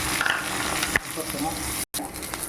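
Cinnamon sticks fry in hot sesame oil with a steady, close crackling sizzle. Near the end the sound cuts out for a moment, then resumes.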